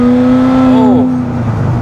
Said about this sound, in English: I wonder if that exhaust opens at a certain RPM because it was quiet at first